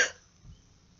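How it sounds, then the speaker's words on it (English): A single short cough bursts out at the start, close and fairly loud, then fades into near silence with a faint low rumble behind it. "Just a cough."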